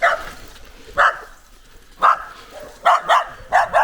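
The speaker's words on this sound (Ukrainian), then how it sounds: "Собака вибіг." A dog barks at a passing cyclist on a long countryside bike ride, giving several sharp, fairly close barks in irregular bursts, some in quick pairs.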